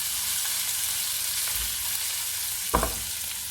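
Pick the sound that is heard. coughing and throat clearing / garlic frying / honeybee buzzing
garlic frying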